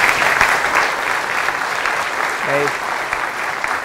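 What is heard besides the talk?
audience applause for the speaker Elad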